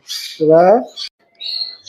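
A Bangladeshi hill myna at a bird market gives a few loud, close calls: a hoarse squawk, clipped notes, then a clear whistle.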